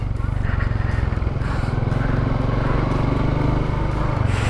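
Underbone motorcycle engine pulling hard up a hill in second gear, a steady close droning rumble with a dense rhythmic firing pulse and no let-up.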